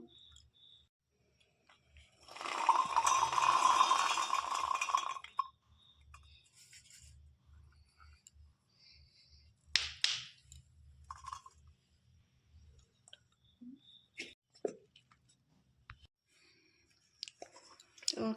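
Peas and green chillies ground into a paste in a mixer, a loud whirring burst of a few seconds followed by scattered clicks and handling noises at close range.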